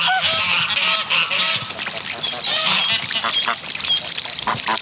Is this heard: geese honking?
yes